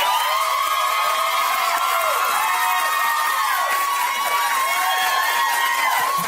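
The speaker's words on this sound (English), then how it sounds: "I want applause for Star." A television studio audience applauds and cheers in a continuous loud roar, with whoops and shouts rising and falling over steady clapping the whole time.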